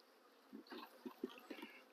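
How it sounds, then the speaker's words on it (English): Honey bees buzz faintly around an opened hive on a cloudy day, a few soft scattered hums and short bursts close by against a quiet background. "So I got a good amount of bees in here."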